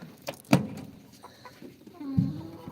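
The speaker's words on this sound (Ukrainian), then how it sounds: "Дивіться, вже вони тут, як тут, ті мої кури." A few soft hen clucks close by, with scattered short calls and low rustling between them.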